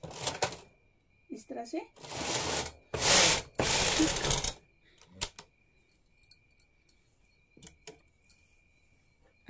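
Carriage of a hand knitting machine run across a punch card for a two-colour design, giving loud, dense mechanical rattling bursts for a few seconds, then lighter clicks and clunks, with brief talk before and after.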